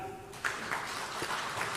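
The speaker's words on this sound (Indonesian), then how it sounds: "Boleh tepuk tangan?" Applause from an audience at a government launch event for a digital village program, a steady moderate wash of clapping that swells in and continues without talk.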